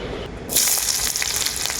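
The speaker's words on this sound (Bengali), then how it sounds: "তেল খুব ভালোভাবে গরম হয়ে গেছে তেলের মধ্যে দিয়ে দেবো কুচনো পেঁয়াজ" Chopped onion dropped into very hot mustard oil in a kadai, a sudden loud hiss of frying that bursts in after a quiet moment and keeps sizzling steadily up close.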